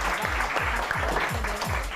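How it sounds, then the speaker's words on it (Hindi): A crowd claps for a girl awarded a gift hamper for her dressing and styling at a weekend event, loud continuous applause with a thumping beat of music underneath. "तालियां।"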